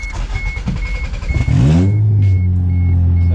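A 1989 Toyota Corolla GTS coupe with a leaking flex pipe cranks over with a beeping chime in the background, then catches and settles into a loud, rough, high idle through the exhaust.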